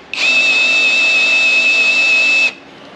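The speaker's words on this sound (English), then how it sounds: "The drill, you can tell the weight, you know, it wants to torque it a little bit." A power drill drives a formula race car quick lift, a loud steady high-pitched motor whine lasting about two and a half seconds before stopping abruptly.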